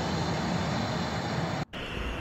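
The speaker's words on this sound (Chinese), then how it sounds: "这架飞机由西往东滑过来" A jet airliner taxis along a taxiway at Guangzhou Baiyun airport, passing close by from west to east; a steady, loud broadband engine roar fills the whole stretch, briefly cut before resuming.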